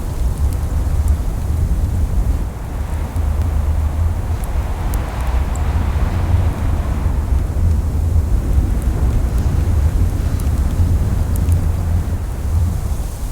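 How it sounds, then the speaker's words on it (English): Stormy weather in a frozen survival game set in January, with a steady roar of wind and deep rumbling like distant thunder filling the whole stretch, loud and continuous with no talk. "this storm is just not going to clear in time"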